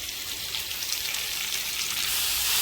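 Ingredients for Malvani chicken curry sizzle and fry in a little oil, a steady close hiss that swells slightly toward the end, with no talking.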